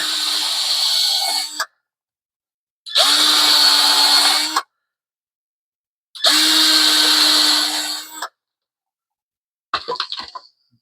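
A power drill runs in three loud, steady bursts of roughly a second and a half each, separated by silence, as it bores a pilot hole for a wall-mounted bathroom caddy. A brief rattle follows at the end.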